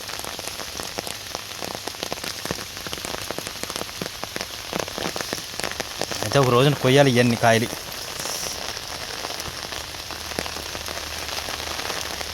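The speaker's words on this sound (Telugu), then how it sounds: "వర్షం ఆల్రెడీ మార్నింగ్ స్టార్ట్ అయింది ఇంకా తగ్గే పరిస్థితిలో కనబడతలేదు" Steady rain pours down in a village, a dense even patter on surfaces close by, and a person speaks briefly partway through over the downpour.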